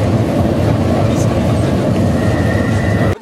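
An Astana–Aktobe passenger train arrives at the station, its loud continuous rumble and rolling wheel noise filling the scene, with a faint squeal late and a brief drop at the end.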